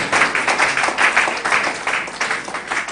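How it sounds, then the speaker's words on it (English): An audience at a business event claps steadily throughout. The dense applause has a rippling, slightly pulsing texture and no one speaks over it. "let's continue clapping even as she comes to share a bit of her experience with us"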